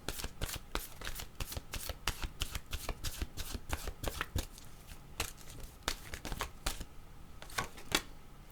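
Tarot cards are shuffled up close, a rapid run of crisp riffling flicks and slaps that thins out and ends with a few separate snaps near the end. No one speaks.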